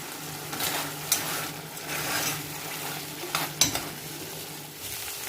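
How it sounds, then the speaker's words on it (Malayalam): Kerala-style beef cooks in an open pressure cooker over a medium flame as its water boils away, a steady soft sizzle broken by several sharp scraping stirs of a spoon against the metal pot. "കുക്കർ തുറന്ന് വെച്ചിട്ട് തന്നെ മീഡിയം ഫ്ലെയിമിൽ വെച്ചൊന്ന് കുക്ക് ചെയ്ത് വറ്റിച്ചെടുത്താൽ മതി"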